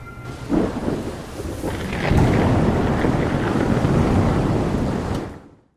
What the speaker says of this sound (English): As the lightning struck